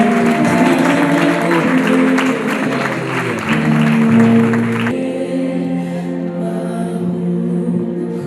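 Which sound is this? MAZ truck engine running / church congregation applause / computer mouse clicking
church congregation applause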